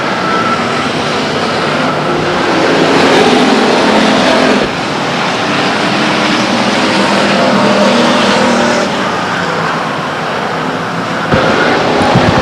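Race cars roar around the Stockton 99 Speedway oval after a car is refired following a spin, a loud, continuous wash of engine noise swelling and fading slightly as cars pass.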